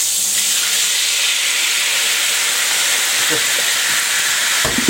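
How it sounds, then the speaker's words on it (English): Vermouth hits a hot pan after cooking hamburger steak, producing a loud, close, continuous sizzling hiss that runs throughout, with a brief spoken word and a clatter near the end. "This will deglaze the pan, so all those bits, you can see them on the bottom, look at them just coming off"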